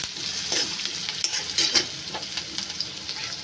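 Chopped onion fries in hot tempering oil for a village-style wild greens dish, a crackling sizzle with soft stirring scrapes and small pops, close and steady with no voices.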